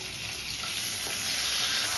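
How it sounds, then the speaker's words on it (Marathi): Crushed ginger, garlic and two bay leaves sizzle in hot oil in a kadai, a steady, close, bright hiss of frying throughout with no talking. "कढईमध्ये मी तेल टाकून दिलेलं आहे, त्यामध्ये मी टाकत आहे ठेचलेलं अद्रक, लसूण आणि 2 तेजपत्ते"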